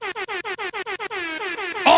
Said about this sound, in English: All the fucking air horns for that guy.